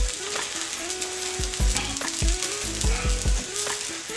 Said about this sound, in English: I'm going to add a little bit more butter here to the griddle. And I'm going to toast up my bread here.